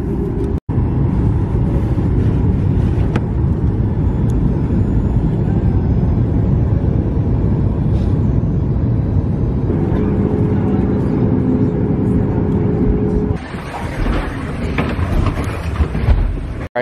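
An airliner taxis out at New Orleans, heard from inside the cabin as a loud, steady engine rumble and roar that continues throughout with little change.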